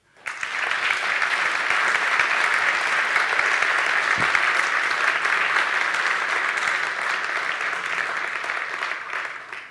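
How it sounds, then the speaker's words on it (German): Steady, dense applause from an audience at a bank's open-day event after an expert panel, starting abruptly and holding at full strength for nearly ten seconds before easing slightly at the end. "dürfen Sie jetzt gern klatschen."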